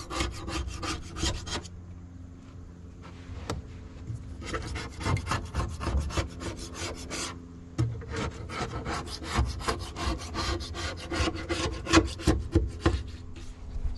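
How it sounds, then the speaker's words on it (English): A tool scrapes old silicone sealant off a Com-Pac 16 sailboat during hole repairs, steady rasping strokes in quick rhythmic bursts with short pauses, close and alone. "Just got to try to get off this silicone."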